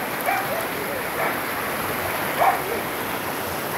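A waterfall on a stream where families come to bathe gives a steady, loud broadband rush of flowing water. The roar holds constant with faint splashes and no clear voices.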